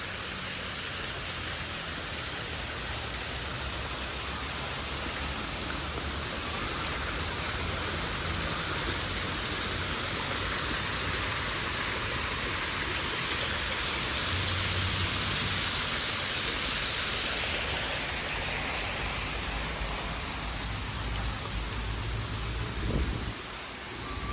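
Water flows steadily outdoors in Thailand with a continuous, even rush that holds at the same level for the whole stretch and has no voices over it.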